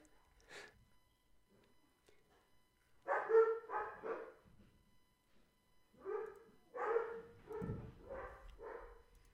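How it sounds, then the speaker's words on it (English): Several dogs bark in excited bursts, a single yip early on and then clustered volleys of barks at moderate distance, with brief gaps between groups. "I think my dogs are about to lose their mind."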